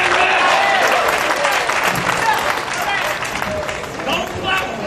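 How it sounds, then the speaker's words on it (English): A bowling alley crowd applauds with dense, sustained clapping, loud and close, while voices and cheering mix in underneath. "Don't clap for him."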